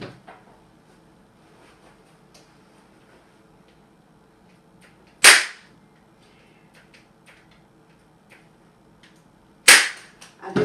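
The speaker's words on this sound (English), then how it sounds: "do have an electric staple gun, but hand staple guns work just as well." A staple gun fires into burlap netting, giving two loud, sharp snapping clacks several seconds apart over a quiet room background.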